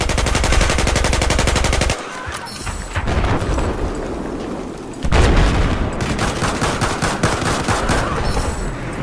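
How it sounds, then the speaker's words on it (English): Automatic gunfire in the video game Battlefield 4, loud bursts of rapid rattling shots close up, breaking off briefly after two seconds before another sustained barrage with booming impacts. "popping off shots."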